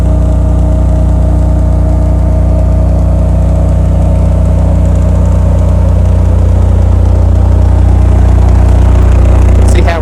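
A 2015 Cummins home standby generator runs on natural gas near full load, giving a loud, steady, close engine drone with a strong low hum and constant harmonic tone throughout, and no talk.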